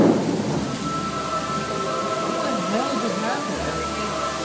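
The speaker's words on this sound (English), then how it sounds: "it's raining so hard you can see like bands of it" Heavy rain pours down steadily with a dense, loud hiss and low rumbling underneath, continuous throughout.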